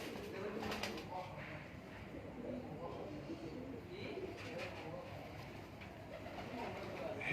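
Champion racing pigeons coo softly from a loft, low murmuring calls layered in a steady background hum while someone speaks nearby.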